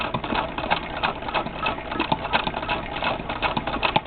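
A 1916 Singer 66 sewing machine, hand-cranked and doing embroidery, runs steadily with a fast, even mechanical clatter of needle strokes, close and continuous with no talking.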